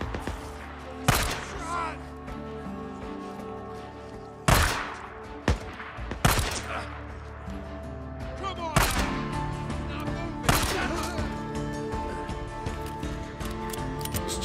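Gunfire and explosions in the zombie video game Days Gone ring out as sharp, loud bursts scattered over a dense game soundtrack, with several irregular shots spaced a second or two apart.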